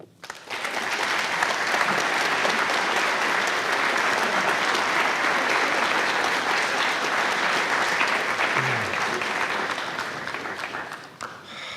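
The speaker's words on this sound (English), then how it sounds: "So I'd like everyone to just stand and give us another round of applause for the musicians and for Bethia." Audience at a community arts annual meeting applauding the musicians, a dense sustained round of clapping that swells quickly, holds steady for about ten seconds, then tapers off.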